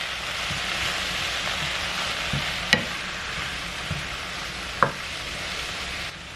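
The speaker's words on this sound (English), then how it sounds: "I'm going to cook these till they're nice and wilted." Radish greens sautéing over medium heat in a pan, a steady hiss of frying with a few scraping stirs and clinks, close and moderately loud.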